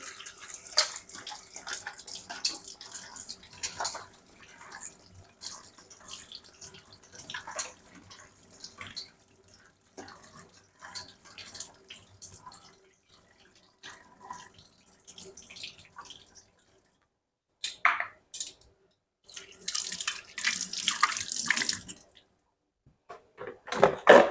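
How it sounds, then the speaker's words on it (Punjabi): Tap water runs and splashes while bottle gourds are washed by hand at a kitchen sink, with an uneven, intermittent stream that stops briefly and then returns in louder bursts near the end. "ਆਪਾਂ ਕੱਦੂ ਨੇ ਜਿਹੜੇ ਚੰਗੀ ਤਰ੍ਹਾਂ ਧੋ ਲਈਏ"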